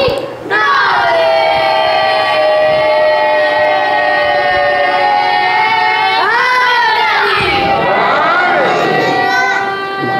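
A congregation at a Muharram majlis in a Surat imambargah chants religious slogans in loud unison: long, sustained voiced calls held for several seconds, then a shorter burst of rising and falling shouts, close and forceful.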